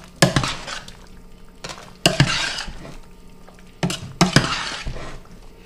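A utensil stirs hot pasta tossed with sauce and foraged mushrooms in a pan, giving three clusters of scraping, clinking strokes against the cookware with soft wet sounds between them, close and clear.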